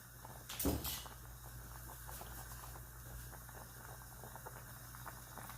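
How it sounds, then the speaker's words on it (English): Sauce for jerk chicken coming to a boil in a pot, a low steady bubbling hiss with faint patter, a brief louder clatter near the start, quiet and continuous with no voices. "All right, it's coming to a nice boil."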